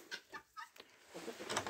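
A Cochin rooster and hens cluck softly in a yard, a few short clucks in quick succession at moderate distance, fairly faint.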